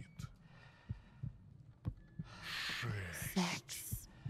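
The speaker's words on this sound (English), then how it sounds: "Feel your heart pounding." Heavy heartbeat thumps pound in steady paired beats through a horror video game, low and close, with breathy noise and swelling ambient rumble building behind them.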